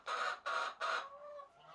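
A hen in a backyard flock gives three loud, close clucks in quick succession, each a short nasal burst, before trailing off into a softer, drawn-out murmur.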